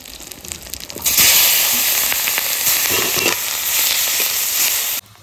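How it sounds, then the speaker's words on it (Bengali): Onion goes into fish-frying oil tempered with cumin, bay leaf and dried chilli, bursting into a loud, close, continuous sizzle with faint stirring that runs about four seconds before cutting off. "মাছ ভাজার তেলে জিরে তেজপাতা শুকনো লঙ্কা ফোড়নে"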